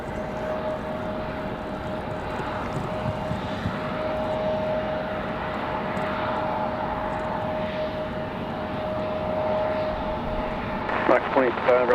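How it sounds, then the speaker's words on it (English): A Boeing 777's jet engines spooling up at an airport, a steady broad roar with a sustained whine, heard from some distance, while a person talks over it throughout. "777 spooling up just behind us, sounds like"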